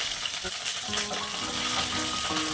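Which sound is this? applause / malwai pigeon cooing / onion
onion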